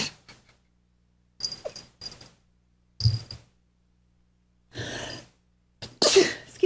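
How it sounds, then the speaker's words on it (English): Several short, sharp bursts spaced out by silence, close and fairly loud, ending in a harsher, stronger burst, fitting a person sneezing repeatedly. "Have I offended you with my sneezing?"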